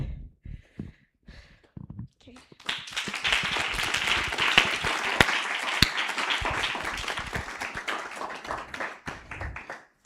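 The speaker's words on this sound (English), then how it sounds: "So we can clap again" Audience clapping at a bootcamp: a few scattered claps first, then full applause swelling from the room, steady and close for several seconds before thinning out.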